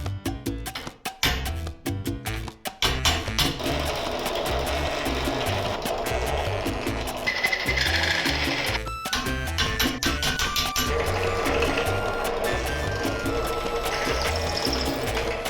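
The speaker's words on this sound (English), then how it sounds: "I was forced to hand drill the final size for this hole." A hand drill bores through the forged steel cage of a morningstar, a fast continuous grinding whir that starts and stops a few times at first, then runs steadily and loud for over ten seconds.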